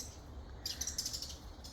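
At dusk outside a house, birds sing in a busy chorus, with a burst of bright, rapid chirps standing out clearly over softer ongoing calls and low background hum.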